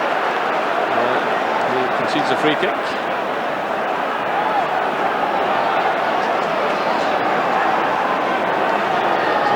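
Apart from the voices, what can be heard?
football crowd at Hearts vs Celtic match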